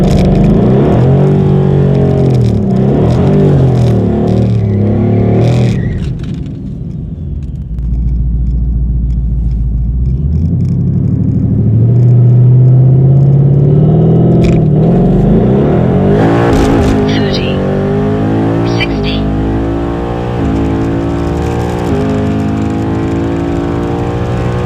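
Hellion twin-turbo Mustang making a quarter-mile drag strip pass: a loud close engine rumble builds, then a hard launch with rising revs through several gear shifts, a brief lull, and renewed roaring acceleration.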